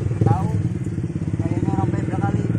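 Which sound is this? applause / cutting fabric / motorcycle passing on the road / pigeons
motorcycle passing on the road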